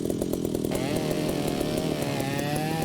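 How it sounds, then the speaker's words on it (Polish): A power saw in the Ship Graveyard Simulator game cuts through chrome-rich ship pipes, giving a steady, loud, continuous buzzing drone with harmonic whine that holds throughout without talk. "I dosyć szybko ta, ta piła tnie."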